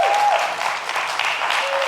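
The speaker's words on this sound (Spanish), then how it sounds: "Denle un aplauso al Señor por eso." A church congregation applauds the Lord in a full, continuous wash of clapping that holds steady throughout, with a brief tone at the start and no speech.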